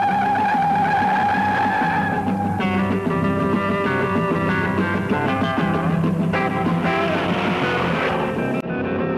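A 1969 Ford Mustang Mach 1 with a 428 Cobra Jet V8 drives past, its engine holding a loud, steady tonal drone with shifting pitch and some tire noise, never letting up.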